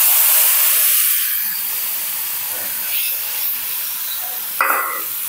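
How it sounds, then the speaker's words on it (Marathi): Water poured into hot tempering for a Maharashtrian golyachi amti, a loud hiss and steamy sizzle at first that settles into a softer bubbling simmer, with a small clatter near the end. "आता हे जे पाणी आहे ते आपल्याला ह्या फोडणीमध्ये घालायचं."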